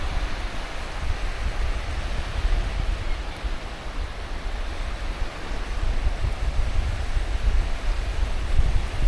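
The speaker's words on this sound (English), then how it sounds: "We're here at this beautiful lake beach" Broadband wash of lake waves on a beach at Ometepe, Nicaragua, steady and close with wind noise, swelling slightly toward the end, no voices.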